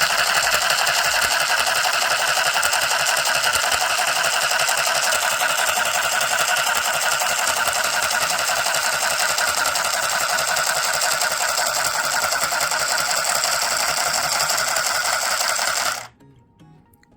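A handheld mini sewing machine stitching fabric, a loud steady buzzing whir running continuously close up, then abruptly stopping near the end.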